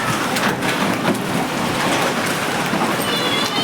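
Heavy hailstones falling during a rainstorm, a dense, loud, continuous clatter and hiss of ice striking surfaces nearby without pause.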